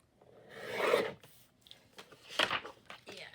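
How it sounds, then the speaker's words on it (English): Scissors trim a paper craft piece, with soft rasping cuts in two short bursts, close and moderately quiet, with no talking. "let me trim that down just a little bit more."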